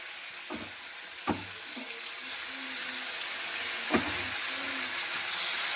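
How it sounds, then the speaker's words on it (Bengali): Chicken and lightly fried carrots for soup sizzle in a pan with a steady hiss, broken by a few sharp clicks and knocks of a utensil against the pan; no one speaks. "গাজরটা আমি হালকা করে ভেজে নিলাম, তার মধ্যে এবারে আমি চিকেনটা দিয়ে দিলাম।"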